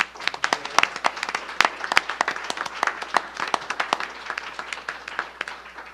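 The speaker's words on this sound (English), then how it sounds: "So let's all give them a big round of applause." A modest round of applause from a candidate forum audience for volunteers, sparse and uneven with distinct individual claps, fairly quiet and heard alone without speech.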